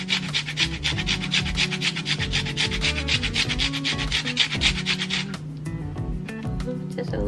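A fresh lime is rubbed against a zester in quick, rhythmic rasping strokes that carry on steadily for about five seconds and then stop, close by.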